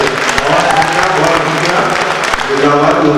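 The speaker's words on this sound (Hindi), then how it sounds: "जोरदार तालियों से इस्तकबाल करें।" Mushaira audience in Nizamabad breaking into loud, sustained applause for a couplet, dense continuous clapping filling the hall with a few voices mixed in.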